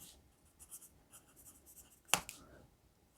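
A Begoody 6B Japanese handwriting pencil scratches on paper in short, faint strokes, followed by one sharp snap.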